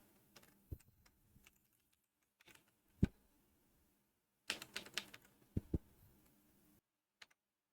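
Sparse keystrokes tap on a computer keyboard as C# code is typed, with isolated clicks followed by a quicker cluster of taps, close and fairly quiet, in an otherwise silent room with no talking.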